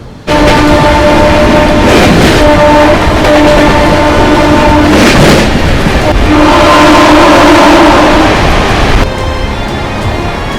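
A loud, steady rumble of the 16553 SMVT Bengaluru–Mumbai express train accelerating out of Bengaluru, with rhythmic clatter and a droning hum throughout, the noise easing slightly near the end.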